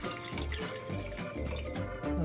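Water poured into a blender while making a green smoothie, a splashing, gurgling stream running steadily and close for a couple of seconds.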